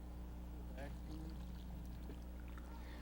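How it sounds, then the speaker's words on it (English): Water trickles steadily into a watering trough built around a newly planted tree, a constant soft flowing wash with a low hum underneath throughout. "We let water trickle into the trough for about an hour and a half."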